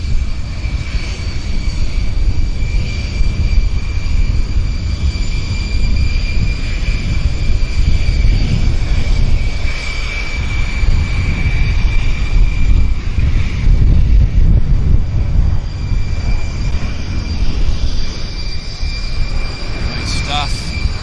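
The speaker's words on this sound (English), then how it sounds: "WestJet is heading to Atlanta, flight 1596. It's on the roll." A heavy WestJet airliner bound for Atlanta roars steadily down the runway on its takeoff roll, a loud continuous jet rumble with a high whine and wind buffeting throughout.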